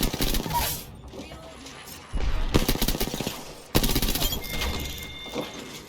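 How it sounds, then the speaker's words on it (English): Video game gunfire: loud, dense automatic bursts arriving in several separate volleys, with mechanical clatter between them and a little speech. "Opening fire."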